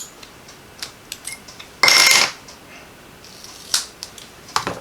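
Scissors make one short, bright snipping cut through a piece of card while making a Christmas slimline card, close up, with a few faint ticks and taps around it and no voices.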